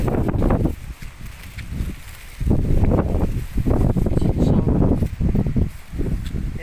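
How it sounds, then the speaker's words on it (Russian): Strong storm wind roars in gusts through trees in Novosibirsk, loud and buffeting close to the microphone, rising and falling in waves. "Вот такой у нас сильный ветер."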